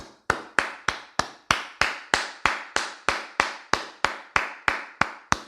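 Brisk, steady hand clapping, around sixteen sharp claps at an even pace, close by and alone with no voices.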